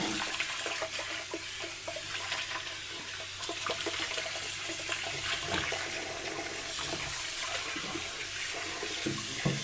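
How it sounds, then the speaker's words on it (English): Soup bones and meat for pho rinsed under a running kitchen tap, a steady close rush of water with faint clatter of pieces shifting in the sink. "we rinsed the bones, the meats"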